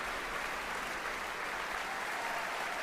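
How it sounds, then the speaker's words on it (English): Hearty audience applause at a symphony orchestra concert in the Michael Fowler Centre as the violin soloist returns to the stage, a steady dense wash of clapping throughout with no voices. "Vesa returning to the stage to accept the applause, hearty applause from the audience here in the Michael Fowler Centre"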